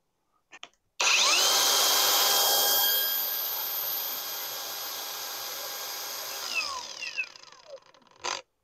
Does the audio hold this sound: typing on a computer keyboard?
no